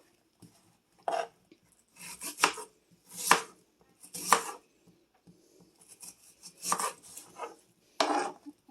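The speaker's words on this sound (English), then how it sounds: "You're going to want to cut your onion. Just going to slice them." An onion is sliced with a knife on a board, producing a series of close, crisp cutting strokes in irregular bursts separated by short pauses, with no voices.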